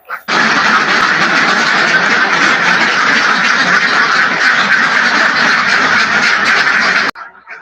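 A dense, loud, unbroken chorus of quacking from many laying ducks packed in a farm pen in Sleman, Yogyakarta, continuing for several seconds before cutting off abruptly.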